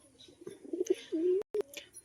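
Soft, close coos from Rajshahi loft pigeons rise and fall in short rolling notes against a quiet background.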